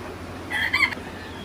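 A white fighter rooster gives a short crow at moderate distance over a steady background hiss on a farm.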